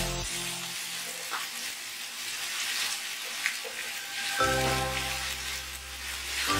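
Arum greens with turmeric and green chilli fry in a pan, giving a quiet, steady sizzle with light crackles and a few soft clinks of stirring, with no voices.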